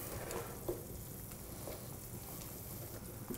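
Onions fry in a pan with a faint, steady sizzle, broken by a few soft scrapes and taps of stirring.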